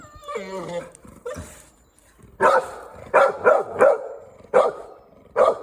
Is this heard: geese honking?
no